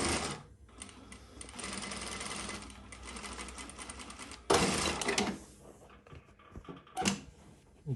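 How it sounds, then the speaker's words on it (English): Prosew PS-1985 industrial sewing machine stitching at a 6mm stitch length, a loud, rapid mechanical chatter in sustained runs with short pauses and a final quick burst, no talking. "we've got a 6mm stitch length on this machine"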